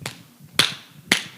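Three sharp, close hand claps ring out alone at an even pace, each a crisp snap that quickly fades.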